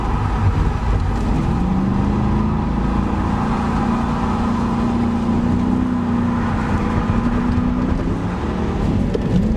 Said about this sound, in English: I was initiating the first drift with the e-brake.